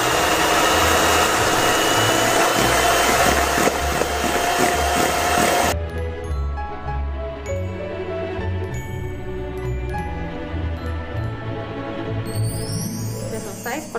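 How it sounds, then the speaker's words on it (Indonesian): Electric mixer whisking egg whites until foamy for a chocolate cake, a loud steady motorised whir that runs for several seconds and then drops to a lower, thinner hum. "Kita kocok ya sampai dia foamy ya."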